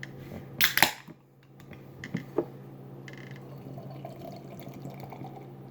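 Grist House double IPA can cracked open with a sharp hiss-pop near the start, followed by a few small clinks and faint pouring trickle against quiet room tone.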